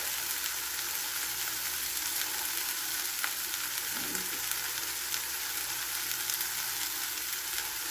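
Pechay and shrimp sautéing in a hot pan, with a steady bright sizzle and crackle of frying that runs evenly throughout, close up and with no talking.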